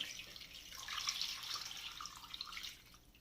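Water pours into a cooking pot holding turkey pieces in a steady, soft splashing stream that tapers off near the end. The pour is faint and close, with no talking.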